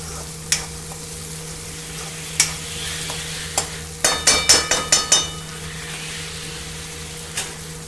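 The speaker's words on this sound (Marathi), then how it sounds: "आता हा मसाला छान भाजून घ्यायचा।" A ground paste of sesame, cumin, ginger, garlic and coconut fries in a pan with a low steady sizzle, while a spoon strikes and scrapes the pan in a quick burst of rhythmic clinks among scattered single taps.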